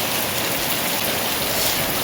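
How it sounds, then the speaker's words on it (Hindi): Heavy rain pours down in a dense, continuous hiss, loud and steady throughout with no voices. "बहुत तेज़ बारिश हो रही है"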